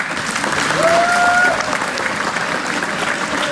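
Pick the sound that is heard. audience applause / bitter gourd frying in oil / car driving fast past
audience applause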